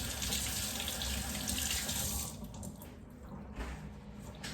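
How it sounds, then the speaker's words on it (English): Water runs from a kitchen tap as rosemary is rinsed under it, a steady close splashing that turns patchier and slightly quieter after about two seconds as the sprigs break up the stream, with no talk. "I'm going to take my rosemary and wash it off"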